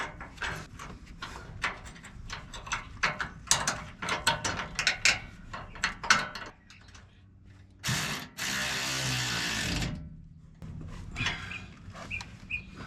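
Ratchet wrench tightening a suspension bolt during a 6-inch lift kit install on a 2020 RAM 1500 in a driveway, a run of rapid ratcheting clicks up close, then a louder sustained mechanical burst, with more clicks afterward.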